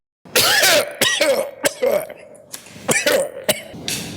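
A man coughs repeatedly in a loud, close fit of harsh, raspy coughs with brief gaps and throat-clearing between them.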